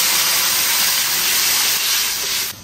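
Loud steady hiss of warm water hitting a hot wok with sizzling dried chilies and Sichuan peppercorns, a continuous steamy roar that drops off abruptly near the end.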